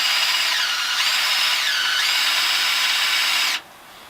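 A power drill runs on a brewery keg lift, a loud steady whine that rises and dips in pitch as the load changes, then cuts off abruptly near the end, leaving a faint hum.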